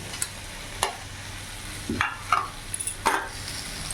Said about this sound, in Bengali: ভালো করে একসাথে সব কিছু মিশিয়ে নেব।